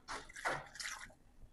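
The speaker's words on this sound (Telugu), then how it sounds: "ఇప్పుడైతే ఇందులో కొంచెం వాటర్ కూడా వేసుకుందామండి" Water poured from a container into bitter gourd chutney in a pan, a short soft splashing pour lasting about a second, fairly quiet and close, then fading to near silence.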